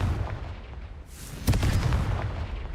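Bombarda and Confringo spell blasts in the Hogwarts Legacy video game: a sharp, loud explosive burst about halfway through, followed by a rumbling tail over a low, steady game background.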